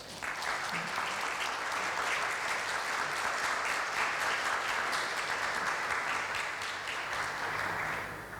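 An audience claps steadily to welcome a speaker at a traditional music conference session, with sustained, even applause that fades slightly at the end.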